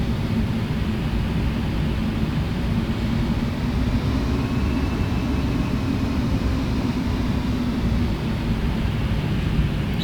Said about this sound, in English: Just turning the aircraft around a bit.